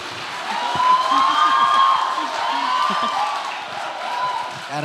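Audience clapping and cheering at a campus seminar hall, a sustained wash of applause with some whoops, swelling early then easing slightly while staying fairly close and loud.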